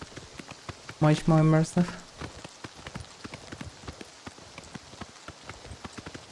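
Horse hooves in Oblivion Remastered clip-clopping in a steady galloping rhythm throughout, with a voice speaking briefly over them near the start.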